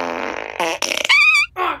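A loud, close cartoon fart sequence plays as several long buzzy blasts with short breaks between them, rising to a squealing whistle before a final shorter toot.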